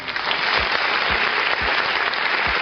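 Steady, loud applause from a crowd fills the whole stretch, dense clapping with no pauses.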